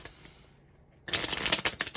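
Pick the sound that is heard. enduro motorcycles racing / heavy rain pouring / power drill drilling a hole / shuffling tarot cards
shuffling tarot cards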